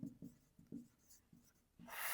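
A pen scratches across paper while a sixth-grade math exercise on polygons is written out: a run of quick, quiet strokes in an irregular rhythm, close up, with no talking.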